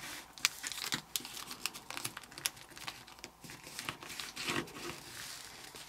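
Origami paper crinkling and rustling as it is folded into a tiger box, with a steady run of crisp, close creases and papery crackles and no talking.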